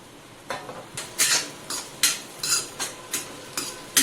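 Dal that was steamed beforehand being added to hot oil in a kadhai and stirred, giving a run of distinct scraping, clinking strokes of a spoon against the pan, roughly every half second, close and fairly loud with no voice.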